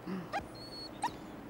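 A dog gives two short, high whimpering yelps about a beat apart, faint and fairly close, with no talking over them.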